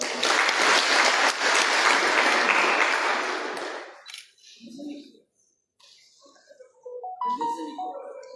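Seminar audience applause on HIV/AIDS elimination in the Comoros swells loudly for about four seconds, then fades out, followed by scattered room noise and a few faint voices.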